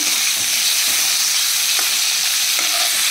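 Prawns frying in olive oil in a home kitchen pan, a constant loud sizzle and crackle with occasional stirring scrapes, no voices.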